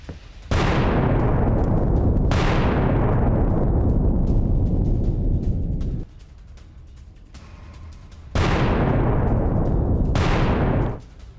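Powerful explosions during an attack in Hormozgan province, Iran: two loud blasts with long rumbling decays, a quieter stretch, then two more booming blasts, heard alone without speech.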